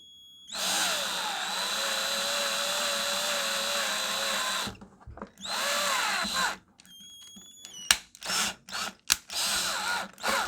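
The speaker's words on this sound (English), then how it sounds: "I'm using a drill that's just a tiny bit bigger than the screw thread." An electric drill bores holes in plastic, whirring steadily for several seconds, then running in short bursts with brief stops, a close, high mechanical whine with clicks between.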